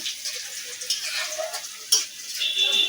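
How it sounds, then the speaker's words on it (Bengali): Garlic frying in oil until lightly browned, a close, steady hiss and sizzle with a few brief clinks partway through. "রসুনটাকে ভালো করে হালকা হালকা লাল লাল করে ভেজে নেবো"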